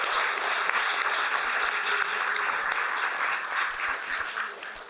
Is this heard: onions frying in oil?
no